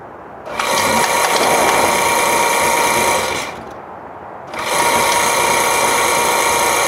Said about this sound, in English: It's pretty loud because the motor's old and rickety. It's out of an old table saw from probably the 60s maybe